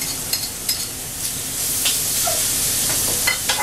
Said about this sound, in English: Just keep sauteing it.